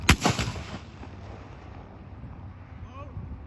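A single loud volley of muskets fired at once by Civil War reenactors of the 150th NYSV outdoors at a brewery, a sharp blast with a short rolling echo that fades into faint background noise.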